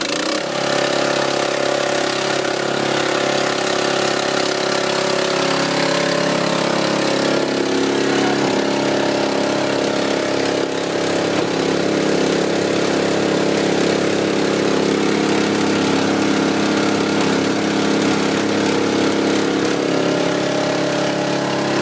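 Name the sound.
mortar mixer engine running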